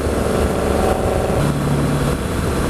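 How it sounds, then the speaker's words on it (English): A loud car roars past on the road, a broad steady engine rumble that swells and fades slightly, heard from close by with wind noise and no talking. "Loud ass car."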